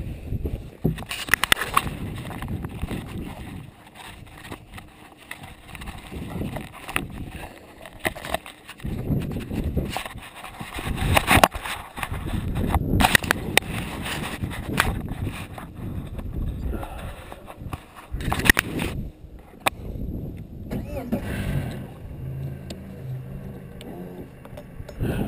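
A 2014 X-19 boat with tournament package and a 150 SHO outboard on a test run: a steady motor drone mixed with buffeting wind and splashing hull slaps, loud and uneven throughout.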